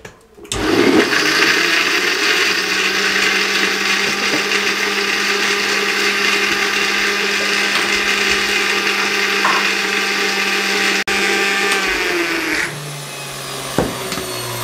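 A blender whirs loudly and steadily for about twelve seconds, mixing a milkshake of dates, milk and ice. Its pitch then drops as the motor slows near the end, with no talking over it.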